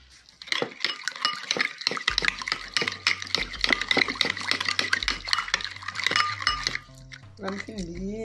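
Salted shredded cabbage for spicy Haitian pikliz gets mixed briskly in a bowl, a dense run of quick clinks and scrapes for several seconds, then a short spoken voice at the end.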